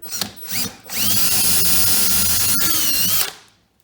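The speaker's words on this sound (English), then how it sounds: "because this is wood, I'm gonna pre-drill me a little hole just to make it easier" A power drill pre-drilling a pilot hole in wood gives two short bursts, then runs at a steady high whine for a couple of seconds before winding down, close by.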